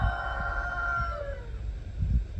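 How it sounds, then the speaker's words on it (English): A single rooster crows once, a drawn-out call trailing off, over low rumbling background noise. "the roosters crowing"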